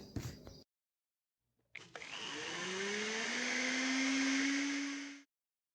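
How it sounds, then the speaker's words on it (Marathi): A mixer grinder purees soaked mung dal in a steel jar. The motor whirs loudly and steadily for about three seconds, its pitch rising as it spins up, then cuts off. "आता एका मिक्सर जारमध्ये ही डाळ ग्राइंड करून घेऊया."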